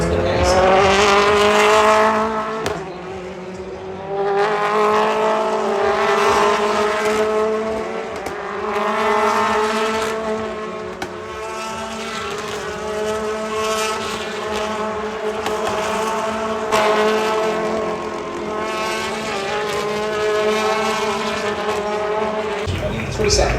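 BTCC touring cars racing at Silverstone, including a wide BMW, with engines roaring loud and sustained as cars pass and shift gears. A commentator talks over the noise throughout.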